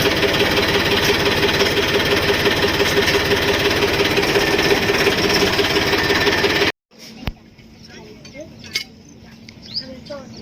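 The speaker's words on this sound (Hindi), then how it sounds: "इस ट्रैक्टर को यहाँ से निकाल कर हम अपनी वर्कशॉप में ले जाएंगे।" A farm tractor engine runs loud and close with a steady, dense drone, then cuts off abruptly partway through, leaving quieter scattered sounds behind.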